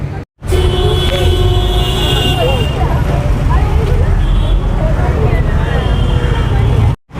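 Continuous roadway noise outside a Kolkata metro station near Victoria Memorial fills the scene with passing vehicles and a low rumble, while people talk nearby over the din.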